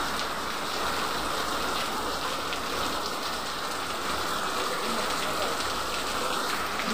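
Light rain falls steadily on surfaces at a flooding school, a constant close patter and hiss with no break, a faint voice at most.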